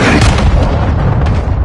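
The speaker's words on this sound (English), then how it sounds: "Hostiles launched a cruise missile." A cruise missile explodes in Call of Duty Modern Warfare 2, one sustained loud blast with a deep rumbling body and crackling debris that fills the whole moment without easing.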